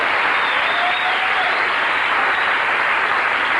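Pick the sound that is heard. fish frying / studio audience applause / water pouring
studio audience applause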